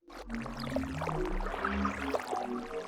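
An Overwatch-style magic water ball ambience: a droning, tonal sound with sustained low hums and watery, whale-like swirling textures, steady and enveloping throughout.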